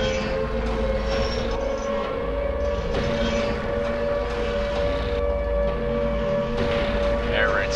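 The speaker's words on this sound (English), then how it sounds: "air raid sirens are not good in this game" A loud, sustained air raid siren in the video game Silent Hill 2 wails with a steady droning tone, accompanied by rumbling background noise and faint voices.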